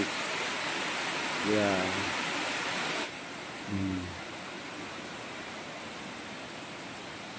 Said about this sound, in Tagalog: Ayan ang unang falls. Tapos dito sa baba, ang pangalawang falls.